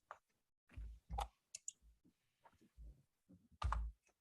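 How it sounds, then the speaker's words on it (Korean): Computer keys are pressed for a Ctrl+Tab shortcut, giving a handful of sharp, close clicks in an irregular rhythm against a quiet room, with no one talking. "그런 다음에 이제 컨트롤 탭을 누르면은"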